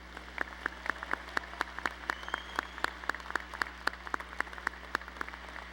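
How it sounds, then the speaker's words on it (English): Scattered clapping at a commencement ceremony for doctoral graduates, distinct individual claps ringing out fairly sparsely over a quiet room and a low steady hum. "Let's applaud the doctoral graduates."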